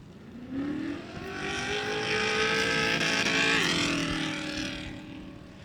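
Race car engines roar and rev at a riverside race, a loud sustained rising and falling engine note building as the cars come closer, with no talking.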